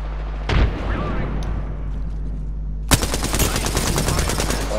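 Video game shootout with a sudden close blast near the start, then from about three seconds a dense, continuous burst of rapid automatic gunfire that runs to the end.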